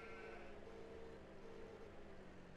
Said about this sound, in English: Let's feed our sheep here.